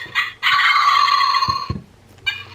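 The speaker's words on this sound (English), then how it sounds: "New design wild turkey." A new-design Wild Republic plush wild turkey toy plays its recorded gobbling call, one loud sustained burst followed by a couple of soft knocks and a brief final squawk, heard close up.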